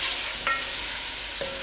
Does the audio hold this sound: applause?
no